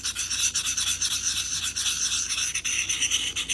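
Steady rasping strokes of a knife blade on a Sharpal 600 fine field sharpener, close and continuous with brief pauses between passes, no talk.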